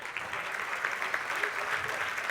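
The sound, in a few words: audience applause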